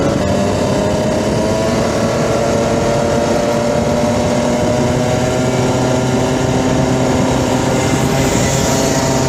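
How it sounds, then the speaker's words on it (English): Race car engine running on a track during a first official practice session in a time attack, a steady loud engine drone with sustained harmonic tones throughout, no speech. "The engine sounds different."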